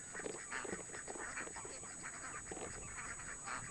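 A flock of ducks near a pen quacks softly and repeatedly at a distance, in a low, continuous chatter with a thin steady whine above it and no talk.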